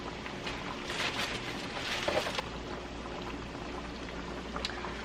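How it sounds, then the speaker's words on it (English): Seafood boil sauce, made with orange soda, pours steadily into a bag, giving a continuous liquid splashing and gurgling that swells briefly midway and then settles into a softer flow, with no talking. "normally I would just pour the whole pot into the bag"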